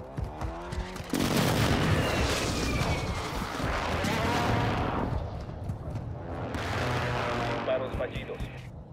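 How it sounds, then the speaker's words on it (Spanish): Call of Duty: Modern Warfare II air strike: a sudden loud barrage of rapid gunfire and booming explosions that rumbles on, fades, then swells again with another burst of blasts. "Solicito apoyo aéreo."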